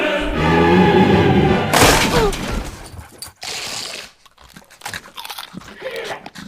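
A dog crunches a Dorito chip with loud, close, brittle snaps and chewing bursts, followed by quieter intermittent crunches and rustling.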